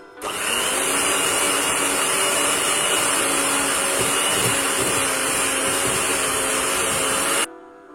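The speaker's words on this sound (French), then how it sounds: "Je commence par travailler le beurre bien ramolli avec le sucre, donc au batteur électrique" An electric hand mixer runs steadily for about seven seconds, beating softened butter with sugar into a cream for lemon meringue cupcakes, a loud continuous motor whine that stops abruptly at the end, with no talking.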